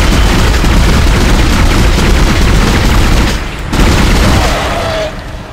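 Rapid gunfire rounds in the sci-fi horror game Dead Space, a loud, dense barrage of booming shots that runs almost continuously, briefly dips, then resumes before trailing off.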